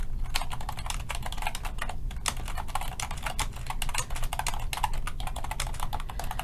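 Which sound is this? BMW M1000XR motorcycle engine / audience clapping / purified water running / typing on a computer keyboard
typing on a computer keyboard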